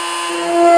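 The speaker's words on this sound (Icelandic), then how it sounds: "Og ég byrja á því að taka 1 gat." A drill spins up to bore a hole for mounting a servo in a Kwik-Fli Mk III model aircraft: a brief, close whine that rises in pitch and loudness as the bit starts.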